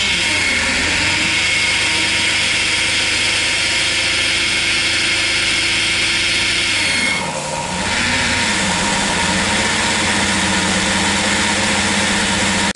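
A supercharged AMR500 Mirage 1.2L dune buggy engine idles with a raised idle speed, a loud, close and steady drone that dips briefly about halfway and then settles back to an even hum.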